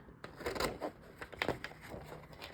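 Scissors snip and rasp through a 12 x 12 paper sheet along a score line, a few close, soft crisp cuts in uneven rhythm with faint rustling between them.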